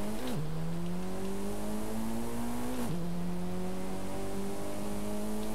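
A stock Mitsubishi engine in Forza Horizon 5 revs up in a continuous loud drone, pitch climbing slowly, dipping briefly at two gear changes, with no talk over it.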